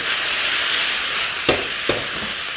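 Sausage pieces with a spoonful of sauce sizzling and hissing in a hot wok for Hong Kong stir-fried noodles, a steady frying wash broken by two sharp bursts as the food is tossed and stirred, no talking.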